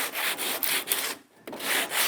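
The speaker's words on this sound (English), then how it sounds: "So again, little sanding block." Rhythmic scratchy strokes of a small sanding block rubbing a ragged wood edge to remove splinters, close up, with a brief pause midway before the back-and-forth resumes.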